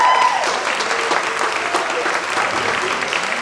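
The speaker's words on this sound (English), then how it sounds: "If you did not applaud, shame on you." Concert audience applauding loudly and continuously for several seconds, a dense wash of many hands clapping at close range with a faint voice briefly audible underneath.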